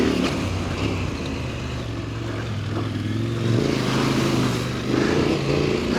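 Motorcycle engine while riding on a Portuguese adventure trail, a rough, continuous rumble that swells and eases with throttle changes, mixed with wind and some clatter, close and fairly loud.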